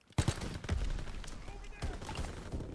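Covering gunfire in Call of Duty WW2, a sharp close shot followed by a stretch of scattered rifle and machine gun fire from several directions amid battlefield noise.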